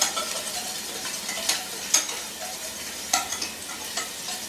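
A spoon works lumpy mustard sauce in a pan for a keto veggie casserole, with quiet scraping and stirring strokes and a few sharper clinks of utensil against the pan, no talking.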